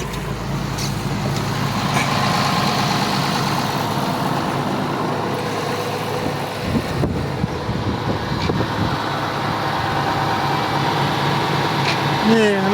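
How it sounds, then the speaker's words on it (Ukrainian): A tractor engine runs a little above idle while powering a corn seed planter in a field, a steady loud diesel drone with wind noise throughout. "Газу даємо трохи більше, ніж на холостих."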